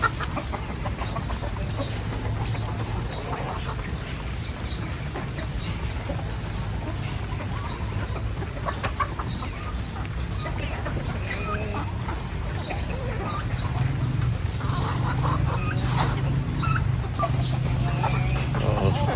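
Hundreds of chickens cluck and squawk at feeding time in the rainy season, a dense, close, continuous chorus of overlapping calls with a low background hum.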